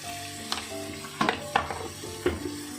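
Nigella seeds (kalo jeera) sizzling in hot oil in a pan, a steady close frying hiss broken by several sharp clanks of a utensil stirring against the pan.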